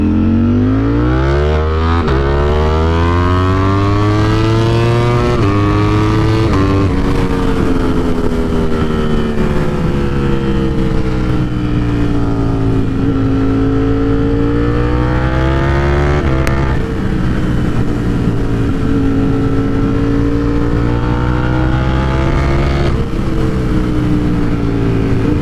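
Ducati Streetfighter V4 motorcycle with an MGP slip-on exhaust roars loudly and continuously, its engine note climbing and falling as it revs and sweeps past, with no talking.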